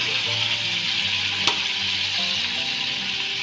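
Ground masala spice paste gently frying in a pan in a home kitchen, a constant bright sizzle up close with one brief sharp tick partway through.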